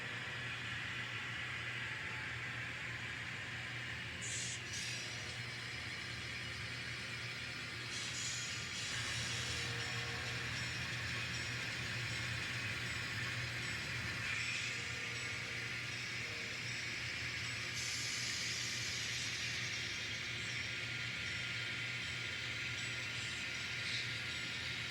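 N scale model trains run at speed around the track, giving a faint, continuous mechanical hum with a steady hiss and no voices.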